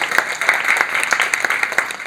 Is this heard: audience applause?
yes